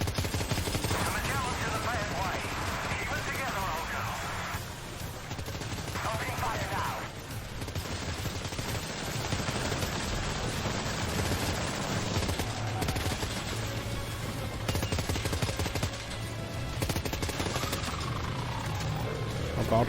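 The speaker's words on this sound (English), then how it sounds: "Assault rifle." Assault rifle fire in the video game Death Stranding 2, rapid bursts mixed with other game effects at a moderate level, while a person talks over the action.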